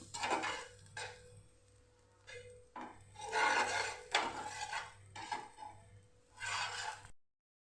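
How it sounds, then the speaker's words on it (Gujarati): Raw onion or potato rubbed repeatedly across a hot iron tawa griddle before making besan vegetable pudla, giving several rough scraping passes in bursts with short pauses between, close and fairly quiet. "આવી રીતે આપણે ડુંગળી કે બટેકાને ફેરવી લેવાનું આપણા તવા ઉપર વ્યવસ્થિત"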